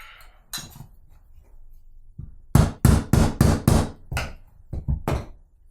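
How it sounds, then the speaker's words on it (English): Mallet taps driving a broken-replacement bushing into a Lagun milling machine table, a run of sharp, close knocks in quick succession, a few scattered taps first then a burst of about five solid blows followed by lighter ones. "I could probably tap it with mallet to get it."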